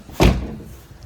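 A single solid thump of an MK4 car door slamming shut close by, sharp and heavy, then fading into quiet room noise.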